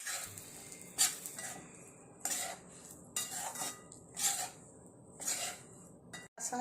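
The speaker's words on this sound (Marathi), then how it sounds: "आधी रवा छान लालसर भाजून घ्यायचा" Semolina (rava) roasting in a pan while being stirred, a spoon scraping and clinking against the metal in irregular strokes of about a second each, faint and close, with no voices.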